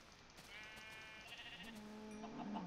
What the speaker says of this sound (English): I'll try to get one more piece of wool from these sheep that are around here.